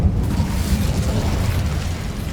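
An Incendio fire spell from the Hogwarts Legacy video game roars as a continuous low, rumbling burst of flame, loud and close, sustained throughout without a break.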